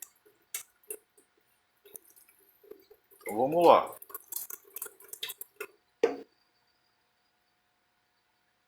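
Water drips and trickles as cooking water is carefully drained from a pot of cooked sushi rice, sparse wet drops and a brief splash, close and quiet, with a person speaking briefly.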